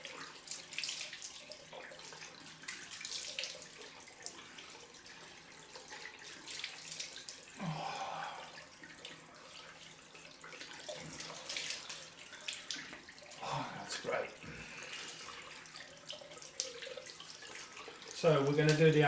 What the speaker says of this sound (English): Let's go for the cold water rinse then.